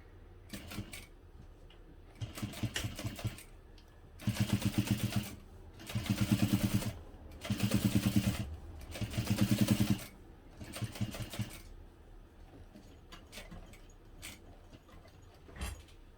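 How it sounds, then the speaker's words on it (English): A sewing machine topstitching around a bag's boxed corner with a long stitch length, running in four rhythmic bursts of rapid mechanical chatter separated by pauses, with lighter clicks before and after. "we'll top stitch using a long stitch length all the way around the box"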